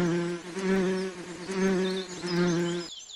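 A bee buzzes steadily and close by for about three seconds, a droning hum that swells and dips in waves before cutting off abruptly near the end.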